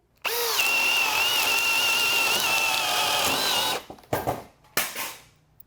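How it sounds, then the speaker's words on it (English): A power drill at speed 2 bores with a 1-inch self-feeding bit in one loud, continuous whine lasting about three and a half seconds, followed by a few short bumps and knocks as it stops. "Self-feeding drill bits are very, very fast."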